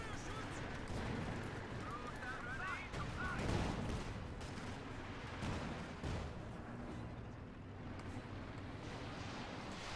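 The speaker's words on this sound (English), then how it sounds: "Stuka fire there for the Command Panther" Stuka dive bomber rocket fire in Company of Heroes 2, a series of booming impacts and crackling blasts among battlefield gunfire, heard at moderate volume.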